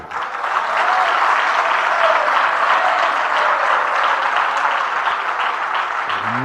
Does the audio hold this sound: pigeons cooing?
no